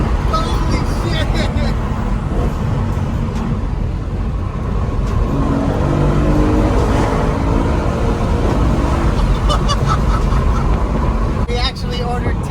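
A BMW E92 M3 with a newly fitted exhaust runs under load, its engine droning loudly and continuously while people talk excitedly over it.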